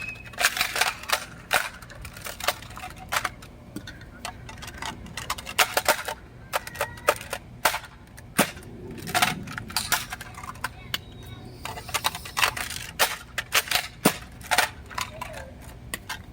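A rapid series of sharp clicks and snaps fills the scene as Nerf shell blasters fire darts, with plastic clatter, rattling shells and darts landing, up close with occasional voices.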